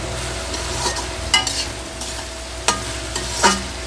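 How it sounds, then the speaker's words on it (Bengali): Onions with salt fry loudly in a pan for a chicken dish, a steady sizzle broken by several sharp clacks of a spatula stirring and scraping. "এবার পেঁয়াজটা দিয়ে কষবো"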